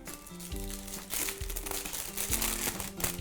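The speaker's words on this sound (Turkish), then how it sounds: "Hafif böyle dairesel şekilde kesiyorum." Baking paper crinkles and rustles as scissors cut it into a circle, a steady close handling noise over background music.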